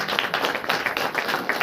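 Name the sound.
congregation clapping to praise God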